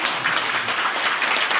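A lecture-hall audience at a cultural talk bursts into steady, dense applause, many hands clapping together close and loud throughout, with no voices over it.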